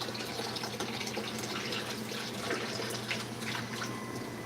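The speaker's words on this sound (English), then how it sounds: "just gonna rinse the excess water." Tap water runs steadily over quinoa being rinsed in a kitchen sink, giving a soft, continuous splashing hiss at moderate volume with no talking.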